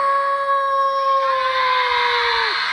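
A human voice imitates a wolf howl at an Islamic storytelling event in Tegal, Java: one long, sustained wailing tone that holds steady, then sags and drops off at the end, over a noisy, murmuring crowd.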